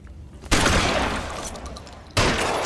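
Gunfire in the video game L.A. Noire: a loud burst of shots starts suddenly, rattles on for about a second and a half and tapers, then a second loud burst follows near the end, with no talking.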